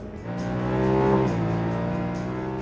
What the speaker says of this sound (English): when you get on the gas and give it full throttle, it has a really throaty, aggressive intake sound